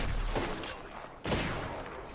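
Gunfire in the Apex Legends battle royale game, with two bursts of shots about a second apart, sharp broadband cracks fading into a washy tail, loud against a constant game background.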